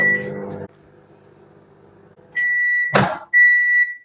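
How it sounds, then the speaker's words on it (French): A microwave oven warming brookie batter hums steadily for a few seconds between sharp electronic beeps at the start and end, with a clunk of the door in between. "maintenant, je vais mettre au micro-ondes pendant environ 1 minute 30"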